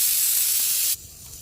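Fenugreek and cumin seeds dropped into hot oil in a wok give a loud, bright sizzling hiss that bursts up at once, holds for about a second, then falls to a quieter crackle.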